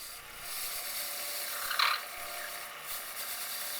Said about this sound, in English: I'm going to turn down the tenon where the band is going to fit